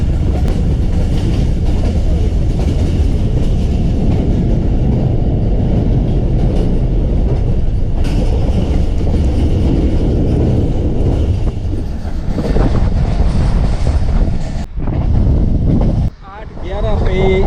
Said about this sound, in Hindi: 8:11 पे चकलाला रेलवे स्टेशन पे हमारी गाड़ी पहुंची।